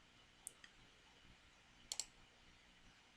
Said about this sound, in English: you could click the Take Snapshot button.